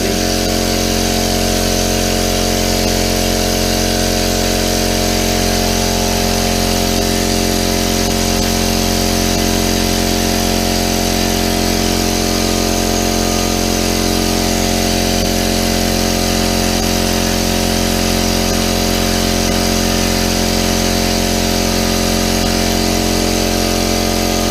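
A Harbor Freight air compressor, either the 26-gallon or 21-gallon model, drones loudly and continuously while building pressure, a steady motor-and-pump hum with no pauses throughout.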